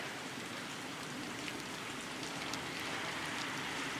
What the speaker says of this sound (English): now it's raining pretty good.